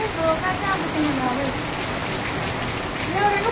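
Heavy rain pours down on a farm in a dense, steady hiss of drops hitting the ground, with a few thin whistling tones rising faintly above the downpour.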